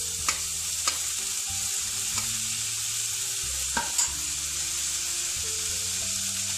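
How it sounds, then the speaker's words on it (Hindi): Onion, capsicum and tomato frying in a pan for pav bhaji, a dense continuous sizzle with periodic spatula scrapes and taps, close and steady throughout. "इन सारे चीज़ों को मैं ऑलमोस्ट 1 to 2 मिनट फ्राई करूँगी"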